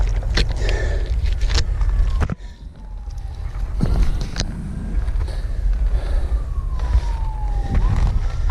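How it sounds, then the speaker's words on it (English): Emergency vehicle sirens wail past on a city street, rising and falling sweeps cutting through loud traffic rumble, with sharp clatters and a brief drop before the sirens return and carry on nearby. "As soon as the sirens pass by or whatever."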